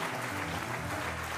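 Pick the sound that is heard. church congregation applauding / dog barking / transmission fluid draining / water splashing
church congregation applauding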